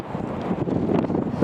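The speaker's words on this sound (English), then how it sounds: "I'm sorry about the wind blowing, I'll try and shout over it." Wind buffets an outdoor microphone near cruise ships, a loud low rumbling gust noise with fluttering bursts, continuous and close, with no voice over it.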